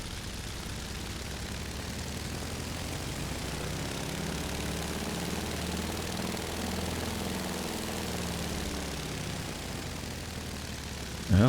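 The propeller engine of a Beech Model 17 in Microsoft Flight Simulator 2020 drones steadily, its pitch slowly rising and falling as the revs build, with a faint whooshing wash throughout.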